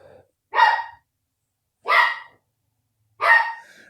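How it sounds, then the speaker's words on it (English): A small 4.5-month-old puppy weighing about five pounds gives three sharp, high yapping barks, each spaced more than a second apart, close and clear with silence between. "I got my dog in here, my little puppy."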